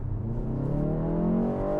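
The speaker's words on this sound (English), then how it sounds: "you can turn on BMW Iconic Sounds, which gives you sounds on upshift." Artificial BMW Iconic Sounds engine tone plays in a BMW M135 as it upshifts, a smooth rising synthetic drone that climbs steadily in pitch and holds a constant loudness.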